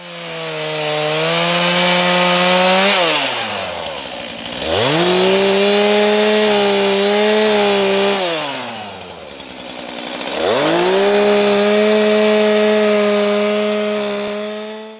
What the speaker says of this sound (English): let's go get the chainsaw and cut down some of these little bitty dead trees